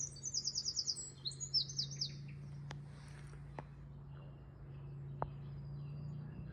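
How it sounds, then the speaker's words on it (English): A chiffchaff calls from a bramble thicket outdoors, giving a quick series of high rhythmic chirps early on, fairly faint over a steady low background hum, with a few sharp clicks afterward. "Chiffchaff calling."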